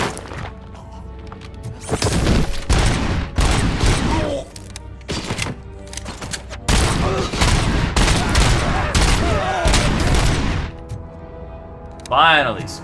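Bursts of rapid gunfire in the video game RoboCop: Rogue City come in loud, dense volleys with brief pauses between them, close and heavy, with a short voice near the end.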